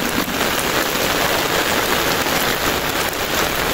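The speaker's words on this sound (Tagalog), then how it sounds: "Ang lakas ng ulan." Heavy rain pours down hard in a steady, dense roar of drops hitting surfaces, loud and unbroken throughout with no voices.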